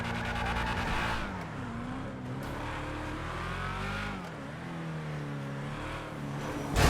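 A car engine in the GTA video game drones and revs steadily while driving, shifting pitch up and down over a continuous roar with no voices.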